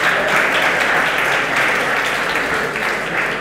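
Steady audience applause at an Italian energy lecture, a dense continuous wash of clapping sustained evenly throughout without pause.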